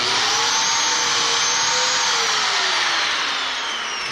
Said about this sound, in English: I'm going to pull the trigger, and it's going to make the cut. I'll plunge it in, and it'll make the cut.